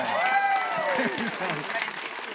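Game show studio audience applauding a winning contestant, steady clapping running the whole way with a presenter's voice speaking over it at the start.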